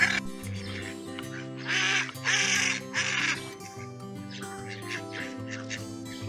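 A duck at a feedlot in Béziers, in the south of France, quacks loudly in several harsh bursts, close by, over steady background music.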